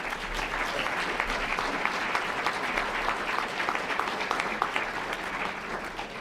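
Sustained applause from an audience at a Martin Luther King, Jr. birthday celebration, steady and dense throughout with no speech.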